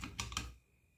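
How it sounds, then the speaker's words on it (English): A knife slices into a crispy flour-battered fried catfish fillet, giving two quick crunchy cuts close up before the room goes quiet. "let's go ahead and give this a nice cut."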